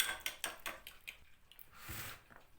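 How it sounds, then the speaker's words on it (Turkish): Eggs and yogurt are whisked briskly in a bowl for a walnut sini kete from Erzurum, giving quick rhythmic clinking taps that slow and fade into a soft wet swish. "Bunu da iyice çırpacağım ki Keten üzerine sürerken daha güzel kısarsın."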